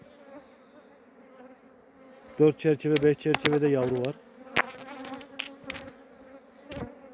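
A steady hum of honeybees buzzing around a hive, with a person talking briefly over it; the buzzing continues close and lively throughout.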